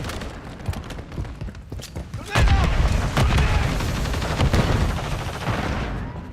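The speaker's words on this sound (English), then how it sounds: "Grenade out!" In Call of Duty Modern Warfare 3, a grenade blast erupts partway through amid ongoing gunfire, followed by sustained loud bursts of shots, with voices shouting over the combat.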